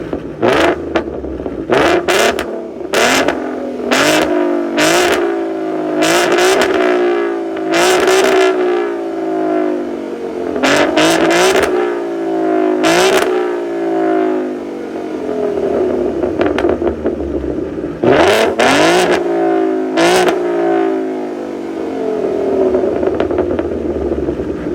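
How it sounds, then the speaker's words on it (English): A 2014 Ford Mustang with a V6 engine revs repeatedly, each sharp blip of exhaust rising and falling in quick bursts with idle gaps between, loud and close. "To that exhaust note, I mean,"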